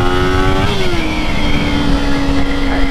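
A Kawasaki motorcycle on a demo ride in Orlando, its engine droning loud and steady with a slight pitch dip as the rider eases off, wind rushing alongside.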